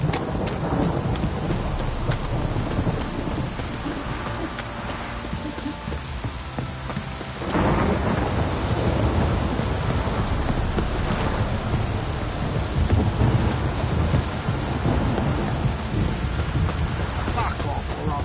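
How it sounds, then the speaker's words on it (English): Heavy rain pours steadily in the game Witcher 3, with rumbling thunder rolling through the storm and a louder surge of downpour partway through, continuous and close. "downpour's a bastard, it is."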